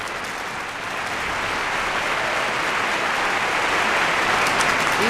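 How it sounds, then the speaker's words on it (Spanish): A large crowd claps in constant, deafening applause for Francisco Madero, a dense unbroken roar that builds slightly and holds loud throughout, with no talk. "Los aplausos eran constantes y ensordecedores."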